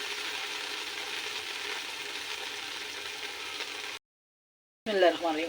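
Peas with salt fry in a pan, a faint continuous sizzle with light scraping for several seconds, broken by a short silence and then a burst of louder clattering stirring.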